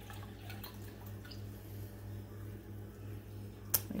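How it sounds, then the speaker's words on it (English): Water pours through a plain kitchen colander while violet syrup is made, with a low trickling wash, scattered drips and a sharp clink near the end, close and fairly quiet. "pour the water right through there"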